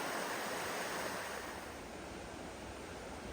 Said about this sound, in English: listening to the water flowing outside.